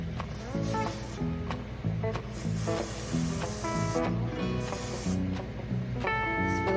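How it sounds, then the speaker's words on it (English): Black hairspray sprays onto hair edges in bursts, several short close hisses separated by pauses, over soft background music. "I'm gonna use the spray. This is the black hairspray."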